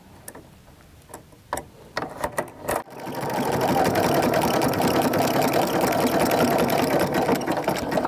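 A sewing machine stitches a thick jelly roll rug: a few slow clicks and needle taps come first, then a loud, steady, close whirring run of rapid stitching with no talk.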